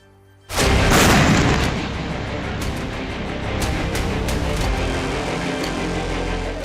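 A loud bomb blast at a school in Prashant Vihar, Delhi, on a Sunday morning, in a news reel: one sudden heavy boom, then a sustained rumbling roar with crackling debris that stays loud to the end, with no speech.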